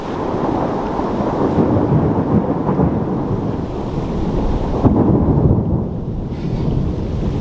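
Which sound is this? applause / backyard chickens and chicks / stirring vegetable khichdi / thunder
thunder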